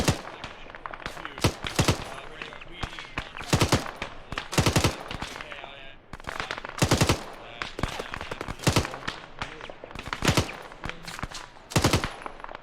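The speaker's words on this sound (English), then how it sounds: "We're taking so much fire." Dense Arma 3 gunfire during a Falklands War battle scenario: rapid automatic bursts and scattered single shots crack out repeatedly, loud and close, with overlapping volleys filling the whole stretch.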